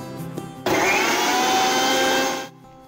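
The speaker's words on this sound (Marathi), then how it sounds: "मिक्सरमध्ये बारीक अशी पेस्ट करून झाली की एका प्लेटमध्ये मी वाटणाची पेस्ट काढून घेते" A kitchen mixer grinds green masala paste of coriander, green chillies, garlic, ginger and grated fresh coconut, starting abruptly with a loud, steady whirring whine, running for about two seconds, then cutting off.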